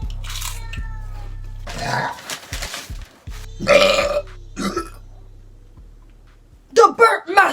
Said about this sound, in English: The Burp Masters!